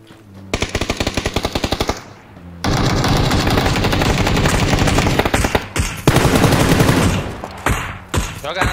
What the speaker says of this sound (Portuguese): o cara tá com uma VSS atirando aqui